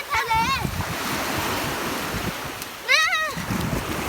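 Sea waves and surf wash at a Thai beach in a steady broadband roar with strong wind noise on the microphone, while children's high-pitched shouts cut in near the start and again around the three-second mark.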